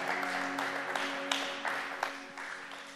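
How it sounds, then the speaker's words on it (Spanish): Church congregation applauding and cheering at a Spanish-language Christian service, a sustained wash of clapping with a few sharper peaks, mixed with a steady musical drone underneath. "Aplauso al Señor."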